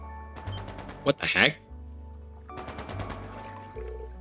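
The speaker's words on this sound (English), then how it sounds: "Is that gunfire?" Gunfire from the video game Trails into Reverie crackles in two short, sharp bursts early on, set against a soft game music backdrop, with a voice speaking briefly near the start and end.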